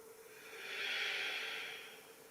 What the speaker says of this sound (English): Take a full breath to settle.